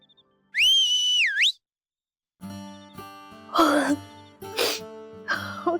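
A person whistles a loud rising-and-falling two-part tone, then follows with throat clearing, coughing and other vocal noises in an indoor comedy scene.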